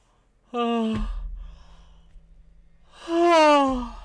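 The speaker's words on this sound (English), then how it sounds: "I lost my thought while I was yawning" A person yawns twice, each a drawn-out voiced exhale that rises and slides downward, the second longer and louder, with a faint breathy pause between them.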